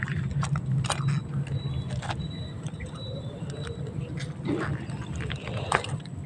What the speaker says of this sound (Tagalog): ay ibon na.